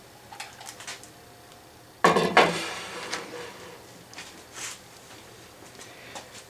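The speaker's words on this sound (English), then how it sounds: "watch the indicator here as I lift this vise into place" A heavy 45-pound metal vise is set down onto a drill press table in a workshop, one loud clunk with a short metallic ring, then faint rattles and shuffling.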